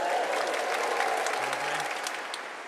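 A graduation ceremony audience at Bishop Grosseteste University bursts into steady, dense applause and cheering, a full hall of clapping that holds evenly throughout before easing slightly at the end.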